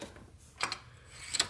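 A ratchet clicks briefly on an aftermarket ARP cylinder head bolt during stock head removal, with two short sharp clicks heard close against a quiet background.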